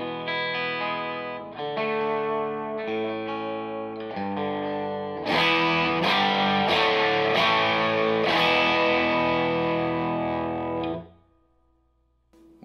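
Electric guitar chords ring through an amp with a Carr Lincoln attenuator, a slightly gritty, edge-of-breakup tone, sustained and loud, then fade to near silence at the end.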